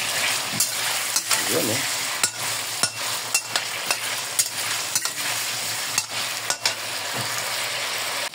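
Beef mechado stew with potatoes frying and sizzling steadily in hot oil with annatto, with repeated sharp clacks of a utensil stirring against the pan and a brief voice at times.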